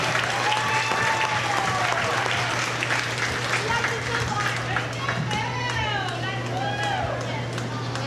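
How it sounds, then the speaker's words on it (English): Audience at a county fair goat show applauding Blue Ribbon exhibitors: steady, dense clapping from a sizable crowd, with a constant low hum underneath and scattered voices and calls mixed in. "Give a big round of applause to those Blue Ribbon exhibitors."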